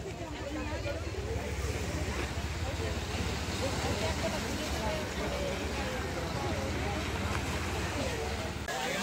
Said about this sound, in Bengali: ঢেউয়ের বিশাল বিশাল উছলে পড়ার যে গর্জনটা